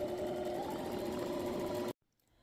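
A sewing machine stitching fabric for a bingo bag, running in a steady, even whir up close before stopping abruptly into near silence.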